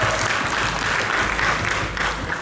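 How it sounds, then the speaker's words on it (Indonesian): Steady applause from the audience at a high school band festival, part of a regional culture festival in Banyumas, dense continuous clapping filling the room without a break. "Tepuk tangan buat kalian semua."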